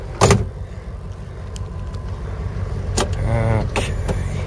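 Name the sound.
1964 Lincoln Continental car driving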